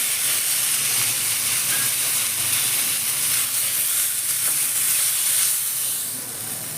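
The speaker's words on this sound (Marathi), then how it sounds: "आता टमाटर भाजून घेऊया" Tomatoes roasting in a pan for Maharashtrian misal give off a loud, continuous steamy hiss that holds steady, then eases off slightly near the end.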